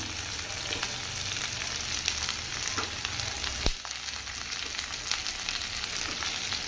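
Onions and eggplant sauté in hot oil, giving a steady, close sizzle and crackle throughout with one sharp clink partway through and no talking.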